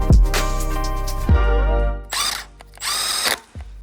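Cordless power drill or impact driver runs bolts into the front cover of a Honda Jazz engine, giving several loud whirring bursts with short pauses between them.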